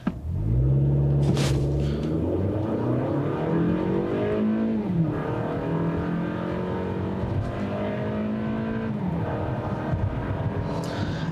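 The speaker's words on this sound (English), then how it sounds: "But let me try another acceleration run here." A 2020 Toyota Camry AWD makes a brake-torqued launch, with traction control off, and accelerates hard. The engine note climbs steadily through two or three gears, with brief dips at each shift, loud and close, with no talk.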